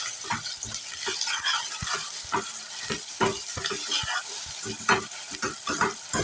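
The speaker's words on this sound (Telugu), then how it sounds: "సాల్ట్ అయితే ఉల్లిగడ్డలు మంచిగా తొందరగా వేస్తాయి." Onions sizzle and fry with salt in a pan while being cooked for tomato curry, a steady close crackle broken by repeated stirring scrapes and clinks, with no talking.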